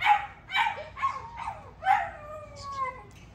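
Several XL Lilac Tri Bully puppies bark in short bursts, then one draws out into a long wavering howl, loud and close with no talking.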